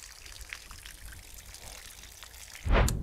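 Water trickles and pours steadily and faintly in a workshop, ending in a louder splash near the close.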